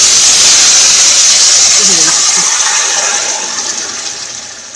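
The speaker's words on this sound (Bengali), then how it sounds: "কড়াইয়ে ফোড়নটা হয়ে গেছে দিয়ে নিয়ে আমি এই ফোড়নের মধ্যে এবার মাংসটা" Meat is tipped into hot spiced tempering in a kadai-style wok for a Bengali meat curry, setting off a loud, steady sizzle and hiss that fills the whole stretch and eases off slightly toward the end.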